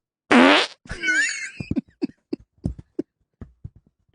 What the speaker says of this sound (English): Name that fart.